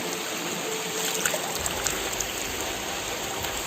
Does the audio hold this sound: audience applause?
no